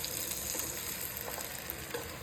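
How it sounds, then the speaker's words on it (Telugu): Mushrooms stirred and fried in a pan for a mushroom biryani, giving a steady close sizzle with soft scraping stir strokes throughout, no voices. "సో మష్రూమ్స్ వేసి కలిపాను"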